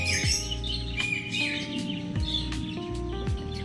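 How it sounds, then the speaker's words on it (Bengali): Songbirds chirp in short bright bursts around a cottage resort, several calls overlapping at moderate distance over a low background hum, with no talking. "পাখির আওয়াজগুলো একবার শুনুন।"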